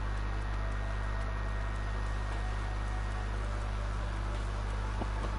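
Rain falls in the game world of Final Fantasy XIV, a steady broadband hiss of downpour with occasional soft drop ticks over a constant low hum.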